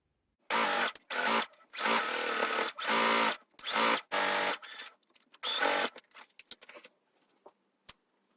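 A sewing machine stitches a waistband onto a jumpsuit in a series of short, close bursts of rapid whirring, separated by brief pauses, trailing off into a few quieter stitches.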